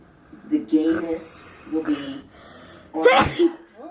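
A single sharp sneeze bursts out near the end, following a few seconds of people talking.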